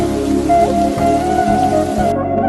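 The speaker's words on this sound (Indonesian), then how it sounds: "Tidak beberapa lama kemudian turun hujan lebat." Heavy rain pours down in a steady, dense, loud wash of patter with no voices, cutting off abruptly near the end.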